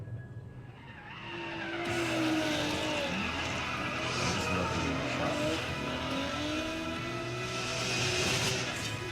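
A supercharged Honda NSX drifts with long, loud tire squeals that rise and fall over a continuous engine roar. It is heard fairly close with no voices.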